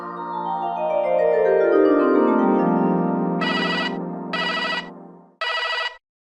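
A telephone rings while an outgoing call is placed: a loud synthetic melodic tone slides downward, then three short buzzy electronic bursts follow, heard alone before cutting to silence.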